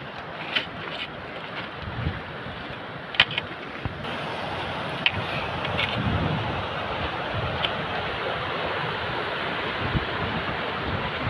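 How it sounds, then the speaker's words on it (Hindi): Cold wind gusting in the Himalayas near Gomukh, a steady broadband roar buffeting the microphone, with a few faint clicks and knocks, no talking. "बहुत ठंडी हवा चल रही है"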